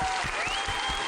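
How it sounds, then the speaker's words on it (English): Continuous audience applause on a game show, a dense even wash of clapping with a faint electronic tone gliding through, no one speaking over it. "Just a round of applause"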